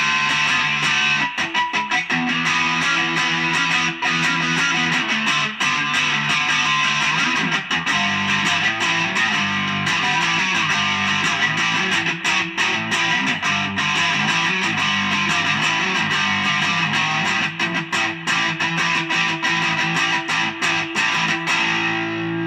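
A heavily distorted electric guitar plays a thick, gritty rock tone, loud and sustained with constant chugging strums throughout.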